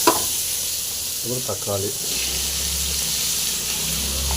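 Curry leaves and coriander fry in oil for drumstick sambar, a steady bright sizzle running throughout while a voice speaks briefly near the start.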